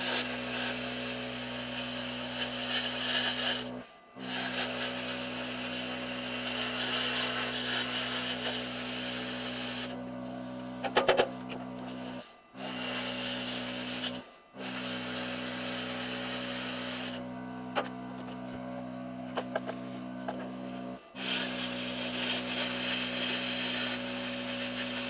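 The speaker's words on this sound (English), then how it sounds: "We're going to grab plasma cutter, blow this out" A plasma cutter cuts the steering part from a first-generation Craftsman mower, giving a loud, continuous hissing roar that runs in long bursts. The cutting stops abruptly several times with short silent gaps between passes.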